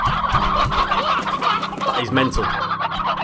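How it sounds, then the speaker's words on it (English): A crowd of hens in Slime Rancher clucks and murmurs continuously, dense and close, with a voice talking over the flock. "look at all those hens"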